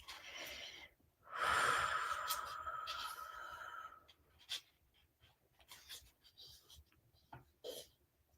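A slow, deep breath taken during an EFT tapping session: one long, airy inhale or exhale lasting a few seconds, close and fairly loud, followed by softer faint breathy rustles.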